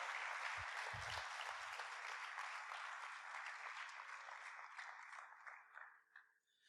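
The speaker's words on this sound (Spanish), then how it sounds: "le podemos dar un aplauso a Dios en esta hora" Congregation clapping in a church service, a steady, full round of applause lasting several seconds that thins and fades at the end, with a few low thumps early on.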